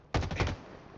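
A rapid burst of gunfire in the video game Halo Infinite: several quick shots fired in a tight half-second cluster, then a short fading tail.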